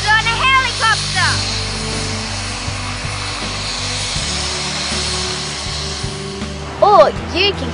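A helicopter flies toward Heron Island, a coral cay on the southern Great Barrier Reef, its rotor and turbine drone steady and loud inside the cabin, with brief whistling tones near the start and end.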